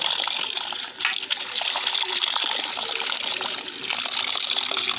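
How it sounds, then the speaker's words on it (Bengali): Taro leaves are scrubbed and rinsed in water by hand, giving a steady close gush and splash with small trickles and sloshes throughout. "কচু পাতাগুলো ভালো করে ধুতে হবে, এর মধ্যে নোংরা থাকে অনেক।"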